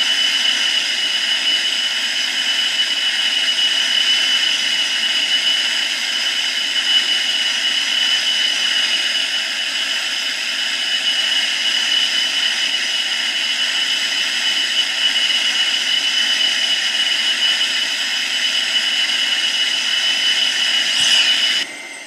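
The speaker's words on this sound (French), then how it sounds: "on parvient à s'envoler juste à temps" Boeing 787 jet engines climbing after takeoff in a flight simulator game, a steady, loud, unchanging engine whine and rush that runs almost the whole time before briefly cutting out near the end.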